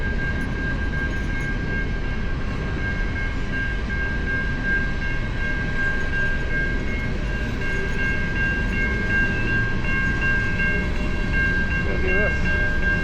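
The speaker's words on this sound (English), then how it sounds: "The train." A train passes near the Burnaby Lake trail with a loud, steady rumble and sustained tonal ringing that holds throughout, with no talk.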